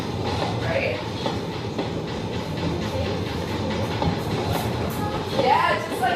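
A train pulls out of a station and gathers speed, with a continuous rumbling clatter of wheels on rails that stays fairly loud and steady throughout, plus a brief squeal near the end.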